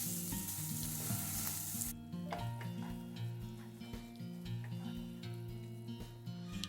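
Soft khava sizzles and fries in a pan over low heat while being stirred, a steady crackling sizzle with scraping stirring strokes throughout, close and continuous with no talk.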